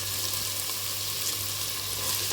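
Grated bottle gourd fries in ghee with a steady, close, even sizzle and hiss that holds without a break. No voices are present.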